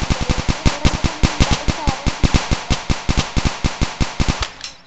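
Rapid, evenly spaced gunshots from the video game Dude Theft Wars, a loud, close string of about thirty sharp cracks that ends abruptly.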